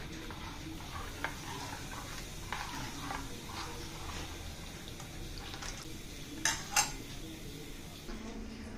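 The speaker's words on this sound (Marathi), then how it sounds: "मी पूर्ण मिश्रण परत व्यवस्थित हलवून घेते।" A spoon stirs neer dosa batter with salt in a metal vessel, giving repeated light clinks and scrapes over a soft liquid swish, with a couple of sharper knocks near the end.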